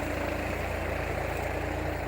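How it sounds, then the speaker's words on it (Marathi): A New Holland tractor engine drones steadily while tilling weeds out of a soybean field, a loud, even, continuous rumble close by with no voices. "ट्रॅक्टरनं आपण करतोय बघा आपल्या रानाची मशागत"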